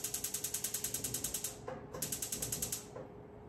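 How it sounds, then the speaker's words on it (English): A kitchen stove is switched on with a rapid, even series of ratcheting igniter clicks, close and moderately loud, pausing briefly before the clicking resumes and then fades out. "I'm going to fire up the stove."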